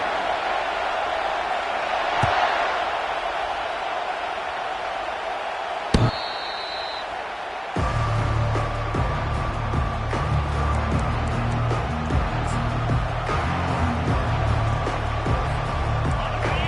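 A loud, energetic football stadium crowd at Michigan fills the scene with a steady roar, punctuated by a sharp slam, before heavier rhythmic noise builds in and carries on continuously to the end.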